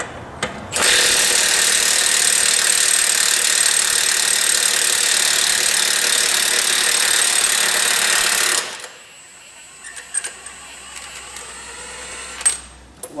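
A Milwaukee 2864 3/4-inch impact wrench removing rust-tight semi truck lug nuts: a loud, continuous rattling buzz lasting about eight seconds, then stopping, followed by scattered metallic clinks and taps nearby.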